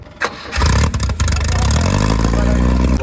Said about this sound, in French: C'est la Simca Rally 2, écoutez-moi le bruit, le boucan que ça fait cette voiture